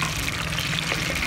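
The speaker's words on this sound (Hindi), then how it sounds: "अब हम इसके अंदर थोड़ा सा पानी शामिल करेंगे।" Water poured into a pan of lightly browned onions while cooking moong dal, giving a loud, steady sizzling hiss and splash that continues for the whole short moment.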